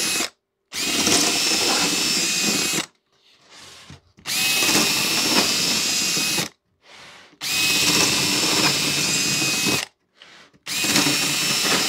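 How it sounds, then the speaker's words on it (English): Power drill boring through a fiberglass RC plane wing, running in three long loud bursts of steady high whine, separated by short pauses with brief quieter spin-ups between them. "I always drill right in the center or as close to the center as I can to give myself enough room in case it wants to chip out"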